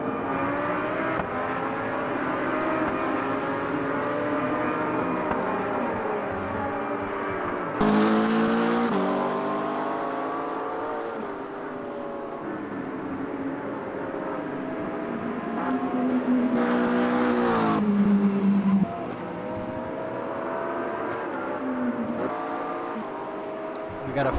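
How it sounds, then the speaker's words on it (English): Race cars, including a Lamborghini and a Corvette, lap the Nürburgring Nordschleife in the racing game Automobilista 2 with layered rising and falling engine whines and gear shifts, and two loud close passes sweep by. Commentary runs underneath. "The black Lamborghini is coming."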